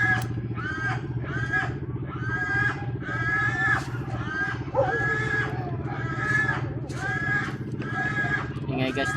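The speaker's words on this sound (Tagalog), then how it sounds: "Ingay guys ng baboy." Pigs squeal loudly and repeatedly in a pen about to be sold, a dense run of harsh, rhythmic squeals over a steady engine-like hum.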